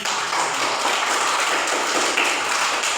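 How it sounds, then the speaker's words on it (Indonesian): Schoolchildren's audience applauds at a classroom gathering, a dense, steady wash of many hands clapping without pause, loud and close throughout. "sekali lagi kita beri tepuk tangan"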